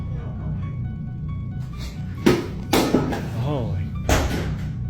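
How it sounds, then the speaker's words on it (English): Several sharp knocks and thuds, like a door being shut, punctuate a low background hum while a voice speaks briefly between them. "This thing's always closing doors."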